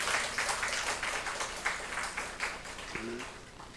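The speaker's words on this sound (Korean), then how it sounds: "우리 위로하고 축복하며 박수하겠습니다" A church congregation claps together during a Sunday morning service, a dense, steady patter of many hands that holds at an even level throughout, with a short instrumental note near the end.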